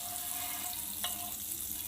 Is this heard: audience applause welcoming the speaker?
no